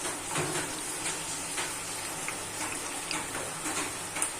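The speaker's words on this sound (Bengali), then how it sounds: "পেঁয়াজটা আমার ভাজা হয়ে গেছে এবার আমি মটনটাকে দিয়ে দেবো" Mutton pieces sizzle after going into a hot pan of fried onions for a rainy-day mutton and potato curry, a steady close crackling hiss with brief louder spits and stirring clatter, no talking.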